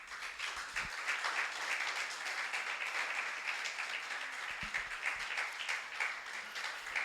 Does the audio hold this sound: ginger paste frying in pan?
no